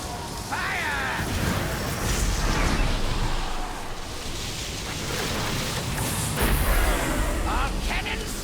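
Cannons fire during a heroic Operation Mechagon Junkyard dungeon fight in World of Warcraft: Battle for Azeroth, with a couple of heavy booming blasts amid constant game noise and voices talking over the action.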